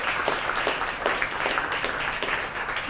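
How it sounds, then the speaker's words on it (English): An audience at a wellness talk gives a round of applause for the guest speaker, a dense, steady clapping sound that is loud and continuous throughout, with no talking over it. "Can we give her a really nice round of applause?"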